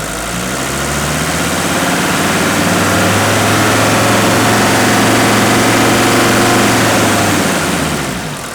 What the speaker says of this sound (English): That's the sound of a healthy diesel.